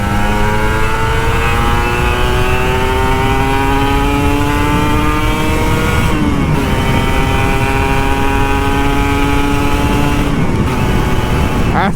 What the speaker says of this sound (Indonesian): Motor 2 tak tuh asik banget kalau dibawa ke gas gini.